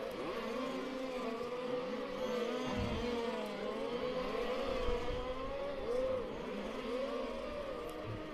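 Race cars on the Bad Breisig course in a race car series finale, engines droning steadily with rising and falling revs as cars pass and overtake, a continuous mid-distance roar without pauses.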